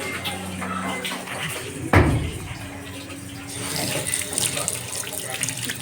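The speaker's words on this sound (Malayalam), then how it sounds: "നമ്മൾ കൈ കഴുകാൻ വന്നെങ്കിൽ" Running water from a tap while someone washes their hands, a steady wet hiss and splashing with a sharp knock near two seconds, brighter spattering toward the end.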